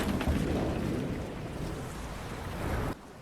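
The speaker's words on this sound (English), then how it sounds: "Against those waves, Chuck?" Ocean waves rush and crash in a scene from the film Cast Away, a loud, broadband surf roar mixed with wind that swells, eases off slightly, then drops away abruptly near the end.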